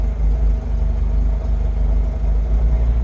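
A 1986 Nissan 200SX S12 Silvia engine with sticking revs and wiring faults runs at a steady, loud, droning hum with no breaks and no voices.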